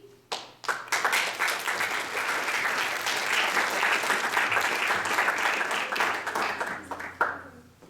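Enthusiastic applause for award recipients at a chemistry conference, a roomful of hands clapping loudly and steadily for several seconds before tapering off with a few last claps.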